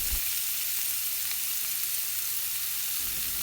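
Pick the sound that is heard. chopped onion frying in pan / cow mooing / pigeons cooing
chopped onion frying in pan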